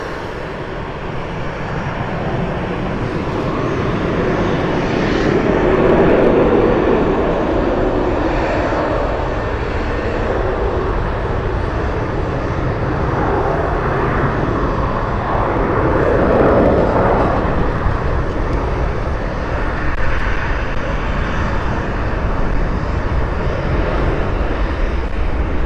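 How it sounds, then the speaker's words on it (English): MD-80 jet airliner engines roaring at Cleveland Hopkins airport on a warm, humid evening, a steady loud drone that swells slightly as the plane passes, with no talk over it. "The MD-80 heading to Saltillo."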